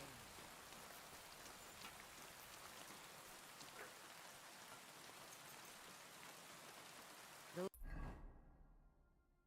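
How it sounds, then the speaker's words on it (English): Steady rain pours down in a dense, even hiss, then a sharp burst of sound near the end is followed by the rain dropping away quickly. "This damned rain."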